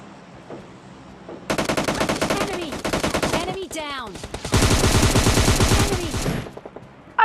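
M4 rifle in PUBG Lite fires long rapid automatic bursts, close and loud, with a short pause between sprays and a longer final burst before silence.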